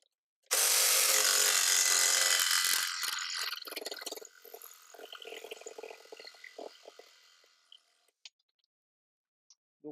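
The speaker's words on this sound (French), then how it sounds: "Je coupe pas souvent du métal avec la scie sauteuse" A Ryobi R18JS7 brushless cordless jigsaw cuts metal with a worn Bosch blade, starting in a loud, harsh, buzzing grind that fades into uneven rattling strokes before stopping, close up with no talking.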